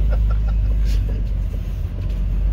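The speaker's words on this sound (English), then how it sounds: "Also gonna hit the gas at the same time." A prewar Silversides bus on its first road test, a loud low engine rumble close by as it accelerates, steady and heavy throughout.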